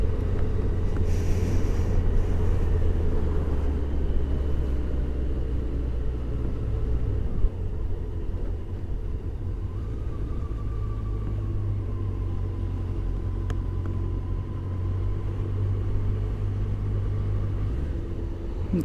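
A car driving along a road on the way to the Moselle River, giving a continuous low engine and tire rumble heard from inside the cabin, steady throughout and without speech.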